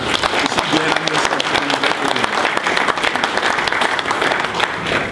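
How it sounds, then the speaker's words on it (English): Conference audience giving a round of applause for panelists at an annual meeting, dense sustained clapping throughout with some voices mixed in. "please join me in giving a round of applause for both the panelists"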